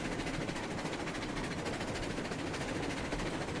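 A steam locomotive moving in the video game RailRoads Online, a steady broadband chugging rumble with faint rhythmic clatter, even and continuous at a moderate level, with no voices.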